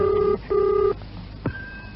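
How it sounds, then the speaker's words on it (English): A British telephone ringing out on the line, two rapid warbling ring bursts in the classic double-ring cadence, clear and alone, followed by a click as the call is picked up. "Is it ringing out?"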